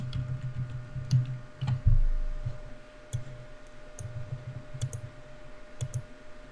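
Computer mouse clicks while operating VirtualBox software, a few sharp, quiet, isolated clicks spaced irregularly over low room hum, with no talking.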